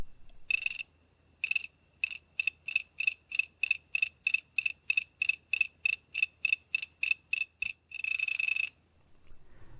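A tone burst generator puts out a sharp electronic beeping, with regular short bursts that speed up as the clock frequency changes, framed by longer sustained tones at the start and end.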